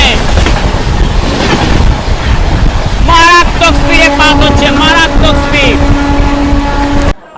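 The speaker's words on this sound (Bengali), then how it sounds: "তোমার সামনে আরও একটা দ্রুত এক্সপ্রেস ট্রেন আছে" A fast express train rumbles loudly along the rails with steady rolling noise, while a voice talks over it near the middle; close and continuous.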